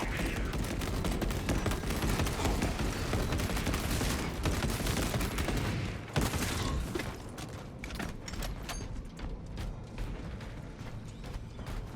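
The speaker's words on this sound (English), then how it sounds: "For some reason, I really don't like how the heavy bolter sounds." Heavy bolter gunfire roars in a Warhammer 40K video game as a loud, dense fusillade of rapid mechanical shots. It continues with rattling and clanking and eases into a thinner burst of shots near the end.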